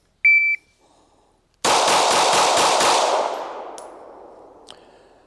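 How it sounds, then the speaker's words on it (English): Glock 45 pistol fired at a range after a shot-timer beep: a quick string of about five sharp reports in roughly a second, loud and close, ringing off into a fading decay. "Now versus the Glock, which... Yep, I say we have the Glock 45, Jimmy's personal carry."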